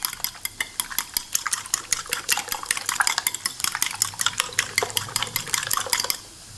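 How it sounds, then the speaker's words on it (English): Eggs for an omelet are whisked briskly in a bowl, a fast, even run of close, sharp clicking strokes for about six seconds before stopping. "So just give it a nice whisking."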